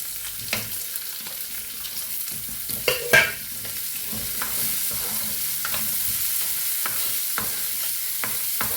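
Onions frying in oil in a home kitchen pan for a Kerala-style prawn curry, a steady broadband sizzle with a few louder stirring scrapes and clacks near the start, heard alone without voices.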